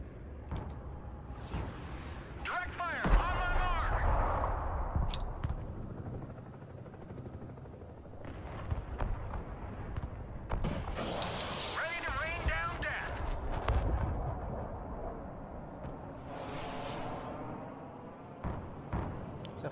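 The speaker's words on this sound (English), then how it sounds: "Rocket artillery ready, sir." Rocket artillery fires in a night-time 5v5 battle in the video game Broken Arrow: booming launches and rushing, whooshing salvos swell and fade over rumbling background noise, with voices talking between bursts.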